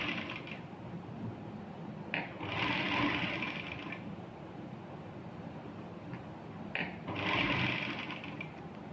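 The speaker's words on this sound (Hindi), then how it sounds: "तो मैं यहाँ पे सिलाई कर लूँगी" A sewing machine runs a loose basting stitch along a strip of salwar fabric, in two bursts of whirring, each lasting about two seconds, with a quiet pause between them and no talking.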